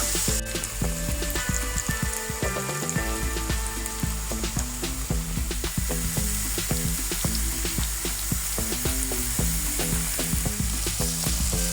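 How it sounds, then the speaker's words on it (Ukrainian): Sausages fry in a pan with vegetables, tomato paste and a little chili sauce, a stew of green peas and sausages in the making. A steady, loud sizzle with constant crackling pops fills the whole stretch, with no talking. "ковбаски обсмажуються"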